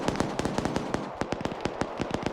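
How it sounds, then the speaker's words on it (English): Rapid gunfire in a military video game, a fast string of sharp, loud cracks in quick irregular bursts, about a dozen shots in just over two seconds. "It definitely hears those gunshots."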